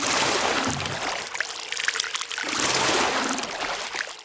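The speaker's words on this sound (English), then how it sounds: "the first sound is a sound of water drop" A recording of water plays back through speakers in a seminar room, a broad, washy pouring and trickling sound that swells and fades in two waves.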